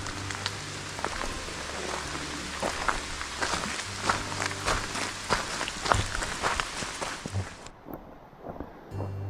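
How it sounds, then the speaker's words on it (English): Rain falls in the Smoky Mountains along the Cades Cove Loop, a steady soft patter of drops on surfaces, fairly quiet and continuous, dropping off sharply near the end. "Smoky Mountain rain."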